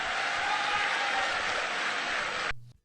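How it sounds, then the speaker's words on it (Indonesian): Crowd applauding two government ministers at a formal event, dense even clapping that holds loud and then cuts off abruptly near the end. "Tepuk tangan untuk kedua menteri kita."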